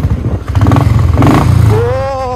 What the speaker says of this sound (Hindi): एक बार रेस कर भाई।